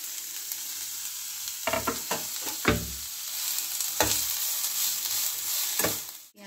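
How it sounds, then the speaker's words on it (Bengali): Chopped onions fry in a pan with whole cumin seeds for chicken patties, a steady close sizzle broken by several sharp scraping stirs, with no voices. "দুটো পেঁয়াজ কুচিয়ে রেখেছিল দিয়ে দিচ্ছি। ভালো করে ভেজে নেবো লাল লাল করে।"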